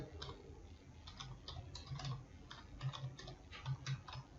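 Fingers type on a computer keyboard in a quiet room, a faint run of light, irregular key taps with a few slightly louder clicks.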